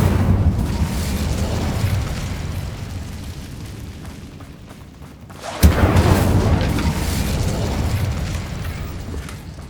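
Incendio fire spell bursting in Hogwarts Legacy, a low rumbling game ambience that fades, then a sudden sharp blast followed by a sustained crackling, roaring burn.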